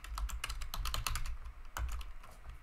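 Fast typing on a computer keyboard while entering else-if statements in Tableau, a close, steady patter of key clicks in bursts with a brief pause near the end and no speech.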